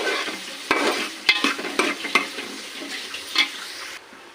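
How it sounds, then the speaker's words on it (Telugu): Sliced onions frying in a pan with whole spices for mutton semiya, a soft, steady sizzle broken by several sharp scraping stirs, close and moderately loud, with no talking. "ఆనియన్స్ బాగా ఫ్రై చేయాలి బ్రౌన్ కలర్ వచ్చేంత వరకు ఫ్రై చేసుకోవాలి"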